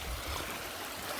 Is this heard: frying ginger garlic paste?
no